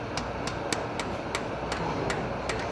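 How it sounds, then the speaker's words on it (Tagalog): A hammer strikes a chisel in rapid, evenly spaced sharp taps, about eight in under three seconds, while tightening the steering gear box of an Isuzu 4HF1 truck with an oil leak, over a steady background hum. "Pero mamaya igpitan natin ito gamit ang mahiwagang sinsil at martilyo."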